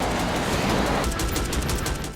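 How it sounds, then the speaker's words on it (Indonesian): A rifle fired in a film action scene at a fleeing car, a quick burst of sharp cracking shots rattling out in rapid succession at close range. "mengambil senapan dan menembaki Ted yang kabur dengan mobilnya"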